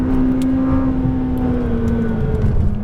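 A car on a race track at full throttle, its engine droning loud and close in a sustained high whine that climbs slightly, with tire and road roar beneath and no talk.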